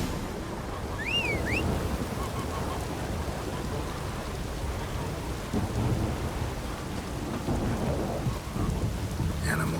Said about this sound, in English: Time for a little storm.